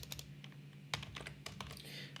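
Quick bursts of clicking keys on a computer keyboard, close and fairly quiet, with uneven rhythm and no talking over it.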